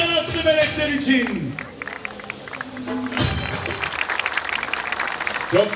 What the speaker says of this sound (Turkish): güzel alkışlar altın kanatlı melekler için.